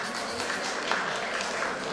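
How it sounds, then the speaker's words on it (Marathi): Steady applause fills a hall at a student award ceremony, dense and even clapping from a sizeable audience throughout. "मुलांसाठी खरोखर जोरदार टाळ्या व्हायलाच पाहिजे"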